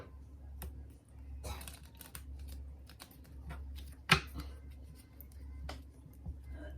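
Tarot cards are shuffled in soft, irregular bursts of riffling and tapping, close up over a low steady hum, with one sharper snap midway.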